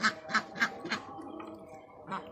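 Domestic ducks being raised for sale, roughly three kilos each, quacking in a quick run of four loud calls, then a quieter pause and one more quack, close by with no talk.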